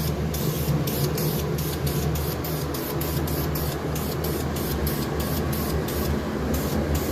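Steady hiss of a spray gun laying nice coats of paint onto car parts during a custom exhaust turbo Tiburon project, continuous and close with faint rhythmic pulsing and no talk.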